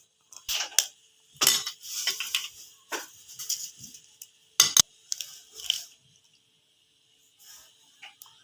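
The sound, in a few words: two eggs being cracked into a bowl and beaten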